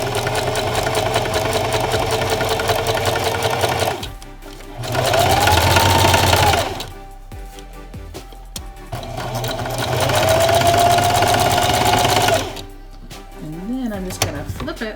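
A sewing machine stitches a seam on newborn baby pants in two sustained runs of several seconds each, with a short reverse backstitch, steady and close, separated by pauses filled with low handling noise.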